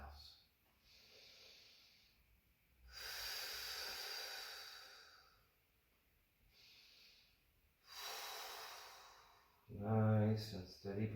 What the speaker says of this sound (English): Let your breath be steady, even inhales and exhales.